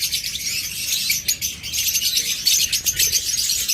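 Pet lutino opaline top-marking birds chirp continuously, a busy mix of quick high tweets and twitters from several birds nearby with no talking.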